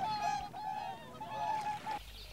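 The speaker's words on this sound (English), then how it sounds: "Hooper swan." Whooper swan calls, a run of bugling, goose-like honks that blend into a sustained nasal tone for about two seconds before cutting off, loud and close with no voices.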